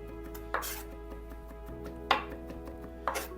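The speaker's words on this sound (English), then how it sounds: "and then just chop it up" A knife chops a smashed garlic clove on a cutting board, giving three crisp, separate knocks over a quiet kitchen background, with no voices.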